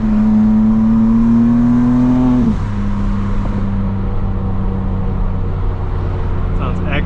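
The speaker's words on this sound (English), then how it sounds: "guys can hear the exhaust." A 2025 BMW M4 CS exhaust drones loudly while accelerating, its steady tone rising and then dropping as it shifts, continuing as a constant engine note from inside the car.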